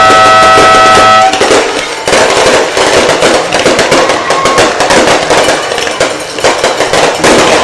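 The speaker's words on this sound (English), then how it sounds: "Marksville is opening with fireworks." Fireworks set off by the fire department before a high school football game between Jena and Marksville, a loud, rapid and continuous crackle of bangs that follows an opening horn blast.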